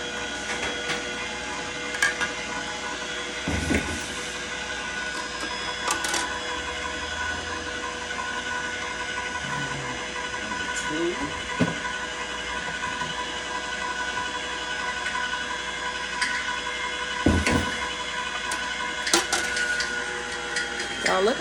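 An Aeitto juicer runs steadily with a humming, whirring motor and a faint rhythmic mechanical grind as it squeezes juice, broken by occasional clicks and knocks, with quiet talk now and then.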